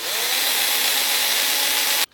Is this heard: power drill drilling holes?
yes